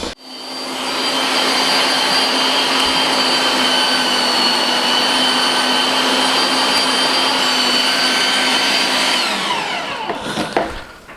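An electric meat mincer fitted with a medium plate grinds pork fat in a steady, loud whirring drone that holds for about nine seconds, then winds down and stops with a brief clatter near the end.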